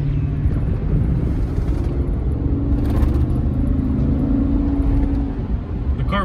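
Steady rumbling engine and road noise from inside a 2011 Chevy Suburban on a test drive, a continuous low drone that holds level throughout with no clear talk over it.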